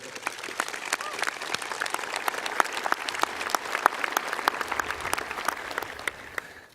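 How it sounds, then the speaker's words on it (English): Graduation audience at Midland High School applauds Mrs. Hutchinson, a sustained round of crisp, fairly close clapping from many hands, with faint voices mixed in. "So another round of applause, please, for her"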